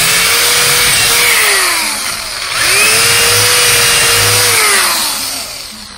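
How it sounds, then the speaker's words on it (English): A power drill whines steadily, its pitch dipping as the bit bites into wooden planks for a swing set solar tracker, then rising again in a second long, loud run. "Don't forget to drill the holes into the planks."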